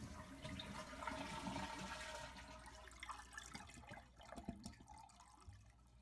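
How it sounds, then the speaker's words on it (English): A toilet flushes with a loud rushing swirl of water that fades into gurgling and dripping as the tank drains. "You may need to flush a couple times to drain it all."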